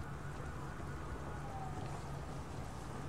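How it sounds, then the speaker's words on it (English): Steady rain hisses in the Watch Dogs video game, a faint, even patter. "And it's gonna start raining."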